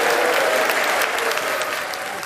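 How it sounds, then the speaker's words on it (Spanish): Republicans in the chamber applaud President Biden's speech, a brief burst of steady, dense clapping from a large crowd that thins slightly toward the end. "el presidente robó un aplauso a los republicanos"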